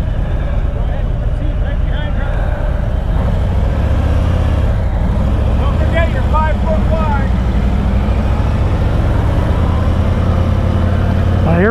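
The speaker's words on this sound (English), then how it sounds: "Here we go, we're riding the Tri Glide." A 2021 Harley-Davidson Tri Glide Ultra trike rumbles steadily through a ride, its low engine drone continuous and loud beneath wind and road noise, with a voice speaking over it.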